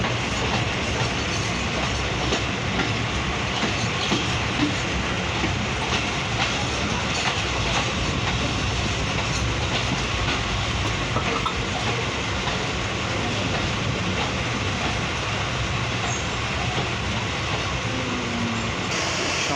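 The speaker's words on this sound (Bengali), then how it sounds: "আমাদের ট্রেন ছেড়ে যাচ্ছে ফুলবাড়ি রেলওয়ে স্টেশন" A train rolls steadily along the rails, a constant dense rumble with faint clattering, close and loud throughout with no voices.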